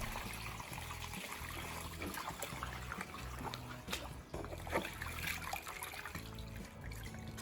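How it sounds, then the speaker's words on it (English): A weighted blanket kneaded by hand in a basin of water, with faint sloshing, trickling and dribbling splashes in uneven pulses, quiet and close. "You need to knead the blanket like this until the water becomes clear."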